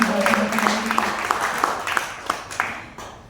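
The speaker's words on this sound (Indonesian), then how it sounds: "kita kasih tepuk tangan" Audience at a church service clapping, a scattered burst of applause that thins out over a few seconds, with a faint voice underneath.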